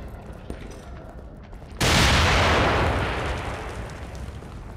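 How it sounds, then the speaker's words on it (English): A grenade goes off in The Evil Within as one sudden, loud, close blast after a quiet stretch, followed by a roar that slowly fades. "Throw a nade."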